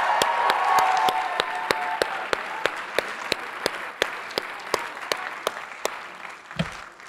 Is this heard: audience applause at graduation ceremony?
yes